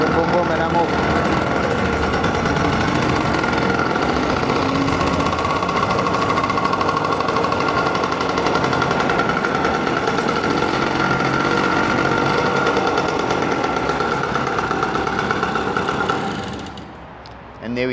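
A Yamaha PW80 beginner motorcycle engine runs loud and close in a steady, buzzing drone, then briefly drops away near the end as the bike rides off.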